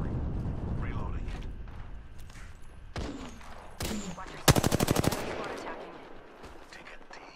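R-301 rifle fire in a video game, scattered shots first, then a rapid, loud, evenly spaced automatic burst near the middle, with voices talking throughout.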